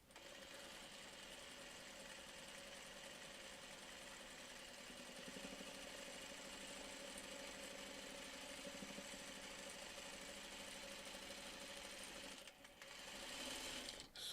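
A quilter sews a line down pieced quilt squares, the machine humming in a long, even run, quiet but continuous, with a brief pause near the end before it resumes.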